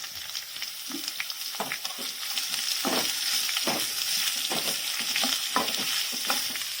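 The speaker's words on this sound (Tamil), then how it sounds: "வெங்காயம் வந்து தேவை போட்டு வதக்கிடலாம்." Sliced onions sautéing for a Chettinad onion kosu, a steady sizzle with repeated scraping stirs of a spoon against the pan, close and fairly loud with no talking.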